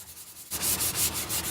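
Sandpaper of 220 grit rubs back and forth over wooden end grain by hand, working around a knot; a quiet pause gives way to steady, close, rhythmic scratching strokes with no talk.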